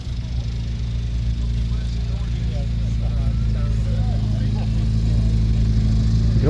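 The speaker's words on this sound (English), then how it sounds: "Mini starting up here." An old Mini's engine runs with a low, steady rumble close by, while a voice talks over it throughout.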